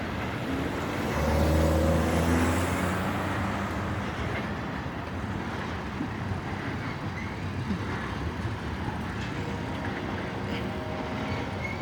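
A long BNSF freight train of oil tank cars rolls past in Piscataway with a steady, broad rumble and rail noise that holds evenly throughout, with no talking.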